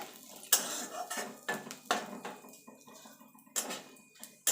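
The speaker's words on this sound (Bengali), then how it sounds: "ফোড়নটা একটু ভাজা ভাজা করে নেব" Bay leaf, dried red chilli and whole cumin tempering in hot oil for potato dum, with sharp metal clinks of a spoon against the pan and stirring scrapes over a quiet background sizzle.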